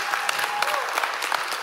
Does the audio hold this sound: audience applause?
yes